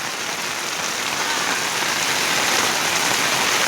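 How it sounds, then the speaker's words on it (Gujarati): Heavy monsoon rain slants down in Gujarat, making a dense, loud, steady roar of drops beating on surfaces that stays unbroken for the whole stretch. "હા બસ આડો વરસાદ છે"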